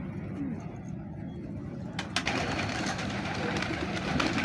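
Pigeons in a breeder's loft cooing, soft low coos over a continuous background hum with occasional bird rustle, fairly close and moderate in level.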